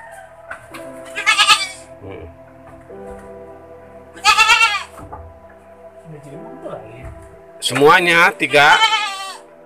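Goats bleating nearby in three loud, wavering calls spaced a few seconds apart, with someone speaking briefly between them.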